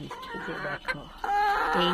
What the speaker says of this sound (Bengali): এগুলো এগুলো করকনাথ মুরগি, মানে একেবারে কালো যে মুরগিগুলো